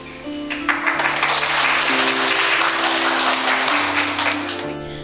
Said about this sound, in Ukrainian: Присутні із задоволенням аплодували декламуванню поезії Шевченка на різних мовах світу